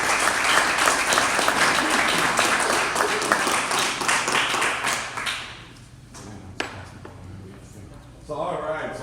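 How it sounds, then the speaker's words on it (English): An audience at a podcasting talk applauds loudly with dense, continuous clapping that fades out after about five seconds, leaving scattered claps, then a speaker's voice comes in near the end. "Round of applause."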